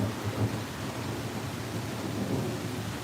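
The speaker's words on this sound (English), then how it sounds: "Oh, there's still thunder though." Thunder rolls low and steady beneath a constant hiss of rain during a severe storm, a muffled rumble that persists without any voices over a few seconds.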